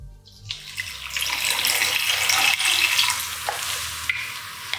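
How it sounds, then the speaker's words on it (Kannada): Water is poured into cucumber juice with a steady, close splashing rush that lasts almost the whole time. The flow is fairly loud and fades slightly at the end, with no talking. "ನೀರ್ ಮಿಕ್ಸ್ ಮಾಡ್ತಾ ಇದ್ದೀನಿ."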